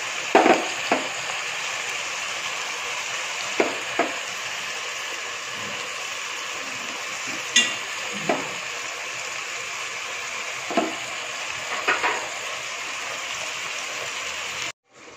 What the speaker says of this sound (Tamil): ஸோ ப்ரான்ஸ் ஆட் பண்ணி கொஞ்சம் நல்லா கிளறி விட்டுட்டு இந்த ப்ரான்ஸ் நல்லா எண்ணெயில் வெந்து வரட்டும்.